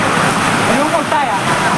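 The Barki waterfall near Kolhapur, swollen by monsoon rain, gives a loud, steady roar of rushing water with wind buffeting the microphone. A faint voice may be talking underneath.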